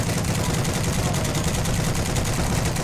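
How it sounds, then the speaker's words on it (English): Gunfire rattles in a Heroes and Generals World War II tank battle, with a dense, unbroken barrage of close shots over a loud, constant rumble. "Oh, that's a tank shooting."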